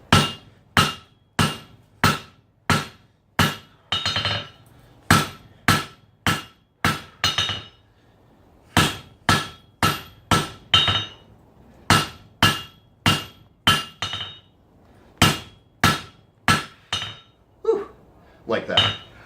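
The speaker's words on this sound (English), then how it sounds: "all of a sudden the hammer got a much deeper tone to it" A blacksmith hammers a Damascus steel knife blade on an anvil, with loud, sharp ringing strikes in a steady rhythm of roughly one to two per second. Brief pauses break the strikes into groups.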